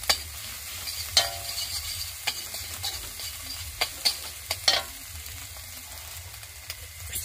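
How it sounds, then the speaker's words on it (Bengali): Egg frying in a pan before pasta goes in, a steady low sizzle with scattered sharp clicks and scrapes from stirring, close by and without talk. "ডিমটাকে একটু ভেজে নেবো,"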